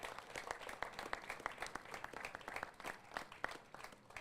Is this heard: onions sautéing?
no